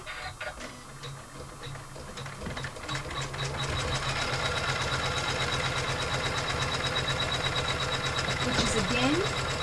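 An embroidery machine stitches out a colorway on an in-the-hoop pouch with credit card slots, a steady rapid mechanical chatter of needle strokes that continues throughout at close range and grows slightly louder partway in.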